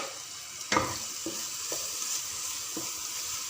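Masala spices for mutton paya are stirred in a pan with a quiet background sizzle and a few scraping strokes of the spoon, one louder scrape followed by softer ones.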